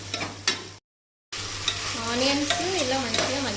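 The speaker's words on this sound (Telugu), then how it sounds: "ఇవన్నీ వేసి మంచిగా ఆనియన్స్ గోల్డెన్ బ్రౌన్ కలర్లోకి వచ్చేంత వరకు ఫ్రై చేసుకోవాలి" Onions with green chillies and curry leaves frying in oil until golden brown for chicken biryani: a steady close sizzle with stirring scrapes, while a voice talks over the second half.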